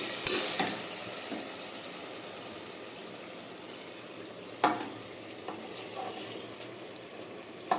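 Washed basmati rice is stirred into sizzling masala in a pressure cooker pot for chicken biryani, with a steady frying hiss, a spoon scraping and clinking at the start, and a few sharp scrapes later.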